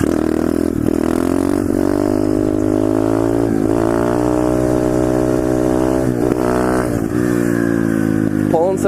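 A pit bike engine revs hard and repeatedly while the rider pulls wheelies, loud and close, its pitch rising and falling with each throttle burst.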